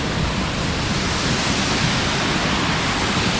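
Ukkada Falls waterfall near a coffee-estate homestay, a loud, steady roar of rushing water filling the whole clip with no voices.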